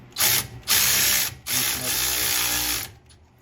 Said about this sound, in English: loosen up this top bolt. And loosen up the bottom bolt.